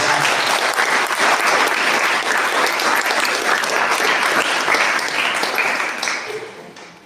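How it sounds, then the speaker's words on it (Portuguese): A church congregation claps steadily and loudly, a dense continuous applause that fades out in the final second. "Você pode aplaudir o Senhor Jesus assim."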